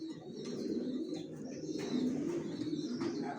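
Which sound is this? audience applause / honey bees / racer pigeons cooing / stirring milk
racer pigeons cooing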